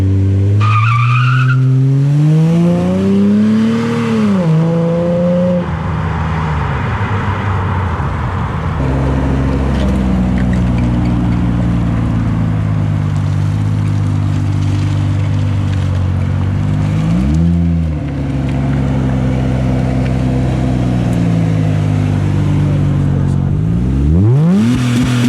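An all-wheel-drive car bought cheap at auction after vandalism launches hard, engine revving up through gears with loud prolonged tire squeal and skidding, close and sustained, with a brief second rev near the end.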